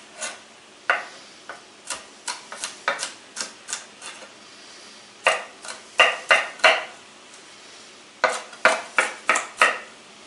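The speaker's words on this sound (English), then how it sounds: "Okay, I'm going to stir up my pot." A spoon scrapes and clinks against the side of a pot of homemade chili, with a dozen or so sharp knocks coming in quick bursts separated by short pauses, close and moderately loud.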